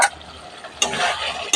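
Mutton curry being stirred in a pan, with two brief scraping strokes over a soft sizzle, close and fairly loud and no voices.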